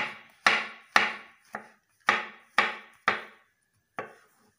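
A knife chops mushrooms on a board in seven sharp, separate strikes with brief ringing decays, close and clear, irregularly spaced with no talk.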